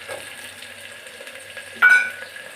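Onion, green chilli and potato frying in a pan: soft, low sizzle for a couple of seconds, then a short sharp louder burst near the end, likely the spoon striking the pan.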